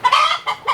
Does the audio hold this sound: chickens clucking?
yes